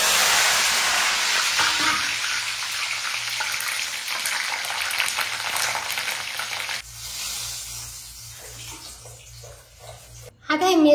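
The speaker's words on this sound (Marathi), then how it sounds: "मिरच्या तळून घेते" Green chillies fry in hot oil with a steady, loud sizzle that drops to a softer crackle partway through, followed by a brief clatter near the end.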